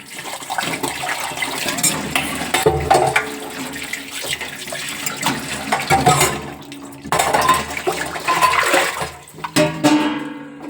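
Dinner dishes being washed under running tap water at home, steady water flow with intermittent clinks and scrapes of utensils and pots, close by and without talk.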